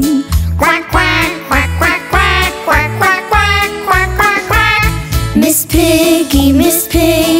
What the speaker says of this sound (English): The duck came by and started to sing. Quack, quack.